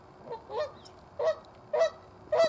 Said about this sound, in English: Honry goose.